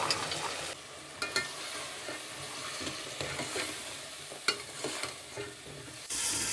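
Peas frying and being stirred in a pan for aloo matar pulao, giving a continuous loud sizzle with several sharp spatula scrapes and knocks spaced through it, with no voices.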